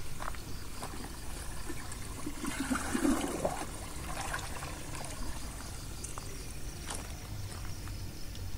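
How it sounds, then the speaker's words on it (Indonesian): Pond water splashes and trickles as it is poured from a watering can onto a potted kencur plant, swelling in the middle and then easing into a gentle dribble over low background noise. "Lalu kita siram secukupnya dan sudah selesai."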